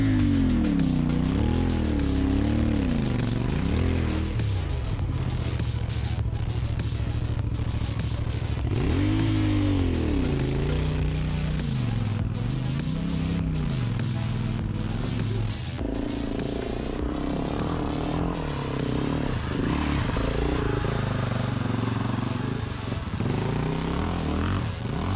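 A Chinese motorcycle labours up a hill on an adventure ride, its engine revving in repeated rising and falling swells, loud and close throughout with rattling and clatter mixed in.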